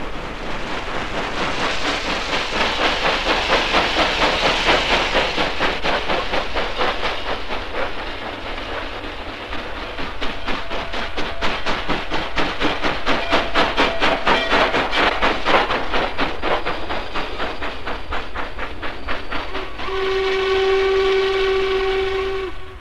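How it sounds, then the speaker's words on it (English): Norfolk Southern steam locomotive, Class A number 1218, chuffing and clattering past with rhythmic wheel beats, then a long clear whistle blast at the end, loud and close. "Norfolk Southern steam specials. The power of S squared, which means the power of steam doubled."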